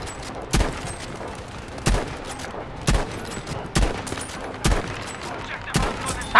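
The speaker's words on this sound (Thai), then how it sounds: "ขวามือก็ยิงมา" Gunshots in the video game Battlefield V: six sharp, loud reports at irregular intervals of about a second over a busy background of distant battle noise.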